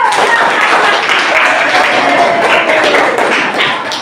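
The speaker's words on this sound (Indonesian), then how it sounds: "Tepuk tangan dulu." Classroom of students clapping their hands together, a steady dense patter of claps filling the room at close range with some voices mixed in.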